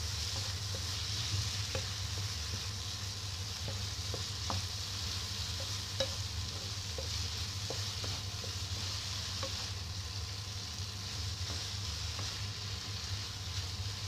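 Noodles frying in a pan with a steady low sizzle and hiss, with faint intermittent clicks of a utensil stirring throughout.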